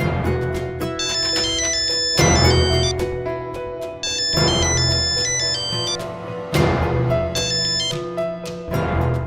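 Phone ringtone playing while a call is placed, a repeating melodic ring in bursts of about two seconds each, loud and close, heard alone without speech.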